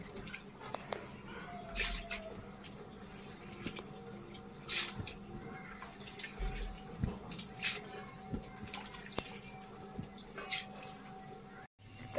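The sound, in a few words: water being added to a pot for lentils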